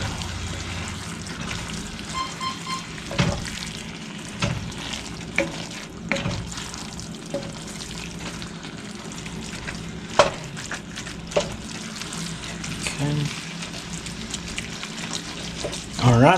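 Ground beef and sausage brown in a pan with a steady crackling sizzle, broken by scrapes and clatter of a spoon or spatula stirring, close up, with brief bits of running water and some talk in the background.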